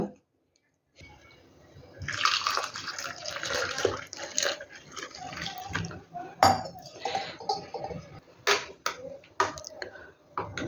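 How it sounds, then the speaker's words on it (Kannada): Water is poured into a ginger and gooseberry paste in a kitchen, a splashing, gurgling pour with clinks of a vessel and utensil, close and fairly loud, broken into short bursts. "ಇದಕ್ಕೆ ಸ್ವಲ್ಪ ನೀರು ಸೇರಿಸ್ಕೊಬೇಕೀಗ"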